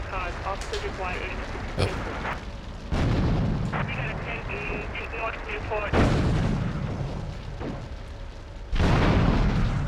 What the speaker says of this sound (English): Quickly throw a few grenades